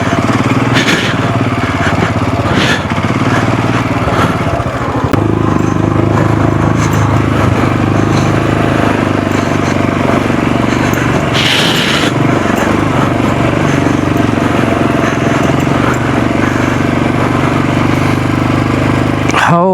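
Royal Enfield Scram 440 motorcycle engine labors up a steep offroad hill climb, a loud, continuous rough drone with brief scrapes and knocks, close to the rider throughout.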